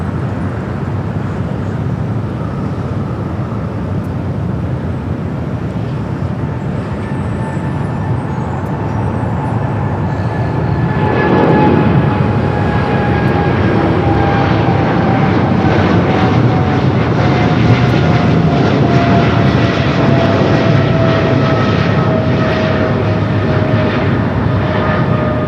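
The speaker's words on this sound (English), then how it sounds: "the 777 freighter now rolling down at 25 right" Boeing 777 freighter taking off on runway 25 right, a loud continuous jet roar that builds around midway and holds strong with rising whining tones.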